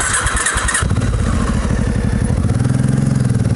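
A touring motorcycle pulls away after refuelling at a European roadside stop, its engine loud and close, shifting from idle clatter into a steady, throbbing rev as it accelerates, no voices.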